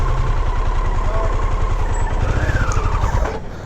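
A 2021 Harley-Davidson Pan America Special motorcycle engine idles loudly and close with a steady low rumble, then sputters and cuts out as it stalls near the end.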